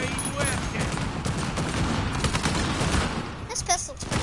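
Dense gunfire from an AK rifle and pistol in Uncharted 4, rapid overlapping shots throughout at close range, with a short whistling sound near the end.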